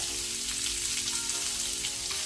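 Onion with turmeric and asafoetida fries in a pan for raw banana upkari, a steady close sizzle with dense crackle and no pauses or voices.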